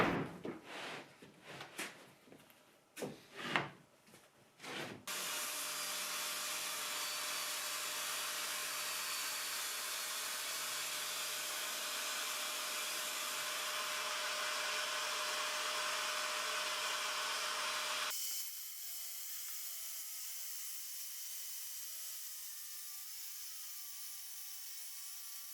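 A circular saw running along a shop-made DIY track saw guide, a steady loud whine after several short knocks and bumps, cutting continuously for about thirteen seconds before the blade spins down to a quieter hum.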